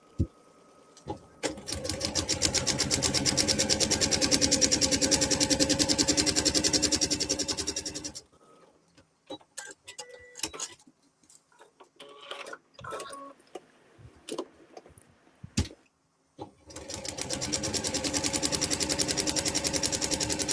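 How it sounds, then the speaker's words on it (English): A sewing machine chain-sewing quilt blocks runs in two long, fast, steady bursts of rapid needle clatter, separated by a quieter stretch of small clicks, snips and handling noises. "normally when we're sewing, we're doing more than one of the same block, so we can do a lot of chain sewing"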